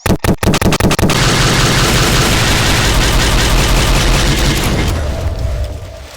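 Video game pulse rifle fire opens with a few sharp separate shots, then runs into a loud, dense, continuous barrage of blasts that fades slightly at the end.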